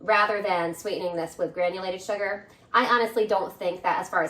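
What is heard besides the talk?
None of the usual background noises is heard.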